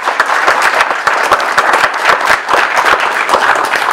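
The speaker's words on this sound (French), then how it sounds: "Et je conclurai avec Madame Géano Sylviane, que je peux également applaudir très fort." Loud, sustained applause from an audience at a hospital New Year's greetings ceremony in Josselin, dense clapping throughout with no pauses.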